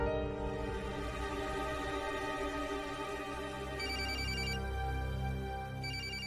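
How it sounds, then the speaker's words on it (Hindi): A telephone rings steadily and loudly, an electronic ringtone repeating without pause, with no voices. "ताऊ जी का फोन है।"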